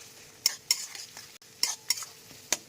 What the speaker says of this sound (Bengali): পেঁয়াজটা যতই লো ফ্লেমে হোক না কেন, মাঝে মাঝে একবার করে নেড়ে দিতে হবে